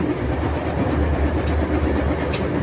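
A moving overnight train from Cairo to Aswan, heard from inside the carriage as it runs beside the Nile, gives a continuous low rumble with rhythmic clickety-clack of wheels on rails. No one speaks.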